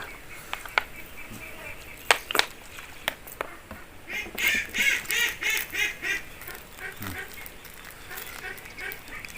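Ducks quack repeatedly in a rhythmic series of nasal calls, close and fairly loud, with scattered sharper honks before and after and a faint voice in the background.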